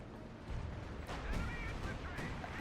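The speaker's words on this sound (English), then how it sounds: "Wait, that was too much artillery." Artillery barrage in a 4v4 Company of Heroes 2 match on Hill 400, rumbling blasts and crackling impacts rolling loud under a commentator's voice for the whole stretch.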